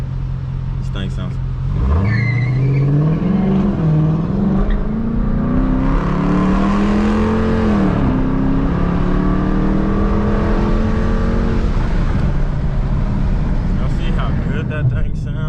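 A Dodge Challenger R/T with its mid muffler and resonator deleted revs loudly, its engine note rising and falling through several long pulls over a steady, heavy rumble, close and very loud.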